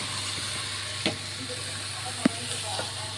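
Chicken frying with onion and ginger-garlic paste in a pan, stirred with a wooden spatula: a steady, soft sizzle with a few faint scraping knocks from the stirring.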